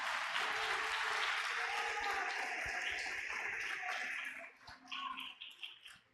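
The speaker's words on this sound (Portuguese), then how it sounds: "aplauda o Senhor" A church congregation applauding during a sermon, thick dense clapping and cheering that holds steady, then thins into scattered claps and voices near the end.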